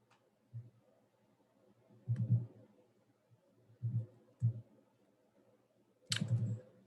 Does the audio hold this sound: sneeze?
no